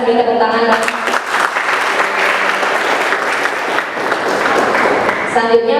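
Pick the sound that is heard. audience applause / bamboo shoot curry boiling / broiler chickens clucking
audience applause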